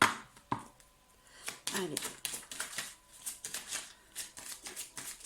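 Tarot card drawn from the deck and laid down, a few soft papery slides and taps mixed with shuffling, close and quiet, while someone speaks briefly.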